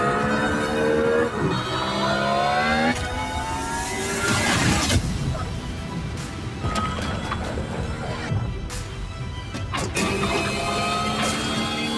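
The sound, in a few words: Hyundai IONIQ 6 N performance car driving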